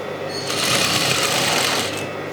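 A domestic sewing machine stitches the hem of a dish towel, giving a loud, close, continuous mechanical whirring and rapid needle chatter that swells slightly mid-run, with no speech.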